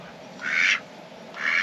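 Ducks give two loud, bright quacking bursts close by, the first longer and the second short, separated by a quiet pause with steady background hiss.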